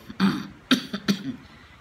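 A few short, sharp coughs from one person nearby, three bursts spaced unevenly over a couple of seconds in a quiet room.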